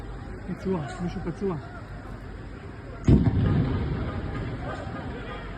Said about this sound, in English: We hear sporadic gunfire occurring across the entire city.